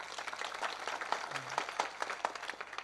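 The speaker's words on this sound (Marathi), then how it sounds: "गुणवान व्यक्तिगत टाळी वाजवत जावी. वाजव बरं जोरात." Hands clap in a scattered, uneven audience patter during a devotional harinaam saptah gathering at Varasgaon, Roha, the claps faint and slightly distant and running steadily from start to end.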